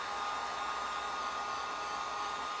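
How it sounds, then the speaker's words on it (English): A blow dryer runs steadily at moderate volume, a constant even whoosh aimed at drying a small craft piece, with no talking. "turn my blow dryer or my heat gun on"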